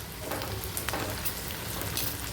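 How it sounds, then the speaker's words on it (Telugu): Onions frying in a pan with curry leaves and green chillies added, a steady dense sizzle and crackle running throughout with occasional brief stirring sounds, no talk. "ఉల్లిపాయలు కాసేపు వేయించుకున్న తర్వాత కొద్దిగా కరివేపాకు కట్ చేసి పెట్టుకున్న పచ్చిమిర్చి వేసుకొని మళ్ళీ వేయించుకోవాలి"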